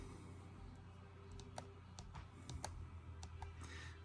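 Sparse computer keyboard keystrokes, a handful of light clicks tapped at an uneven pace over a steady low room hum, close and faint.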